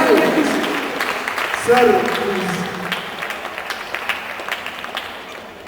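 Applause greets Dushyant on stage at a Mr & Miss Hindustan pageant event, a steady crowd clapping with a brief spoken word over it.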